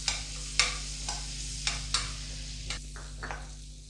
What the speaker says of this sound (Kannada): ಇದರಲ್ಲಿ ಗೋಡಂಬಿ ದ್ರಾಕ್ಷಿನ ಸ್ವಲ್ಪ ಫ್ರೈ ಮಾಡ್ಕೊಂಬಿಡೋಣ.